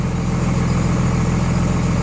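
A 24-valve Cummins diesel truck engine fitted with 50 hp DDP injector nozzles idles low and steady, a loud, close, continuous rumble with no voices.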